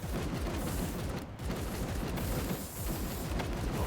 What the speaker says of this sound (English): I want to throw this grenade here